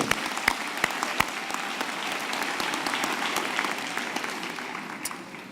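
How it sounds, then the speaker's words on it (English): Applause from a graduation ceremony audience at the University of the Free State, a dense steady patter of many hands lasting throughout, with a few sharper individual claps standing out near the start. "Maybe let's give them a hand of applause."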